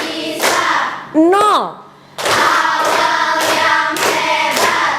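Children in a classroom chant a math lesson call-and-response with rhythmic group hand clapping, bursts of sharp claps alternating with sung words in a quick, regular pattern.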